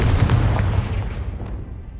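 A Confringo fire spell explodes in the video game Hogwarts Legacy, a loud, close, booming blast that hits at once and decays into a rumbling tail.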